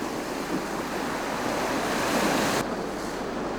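Sea waves wash over a rocky shore at night in a dense, continuous roar of surf and foam that stays loud and close, with no voices.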